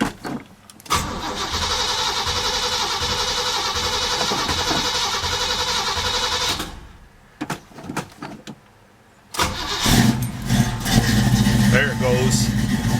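A 1977 Chevrolet Blazer cranks steadily for several seconds, pauses, then cranks again and catches, its engine firing up and settling into a rough idle nearby, with people talking in the background.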